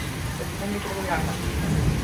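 The season's first rain falls steadily, a dense, continuous hiss of drops close by with low rumbling underneath, while a person talks over it.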